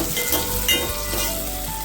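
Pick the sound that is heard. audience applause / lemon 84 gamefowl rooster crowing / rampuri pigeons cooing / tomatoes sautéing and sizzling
tomatoes sautéing and sizzling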